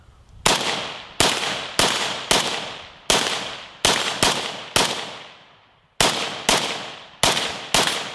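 An AK-12 clone rifle fires eleven loud, sharp single shots outdoors at an uneven pace, each crack trailing off in a short echo, with a slightly longer gap before the last few rounds.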